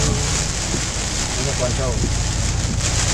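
Heavy rain pours steadily as a loud, dense roar with a wind-like hiss, heard from inside a vehicle during a drive, with voices speaking over it.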